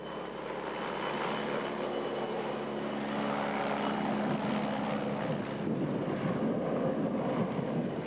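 Propeller airplane flying mail, food and supplies into a remote village, a steady droning engine with wind noise, moderately distant and continuous with no talk.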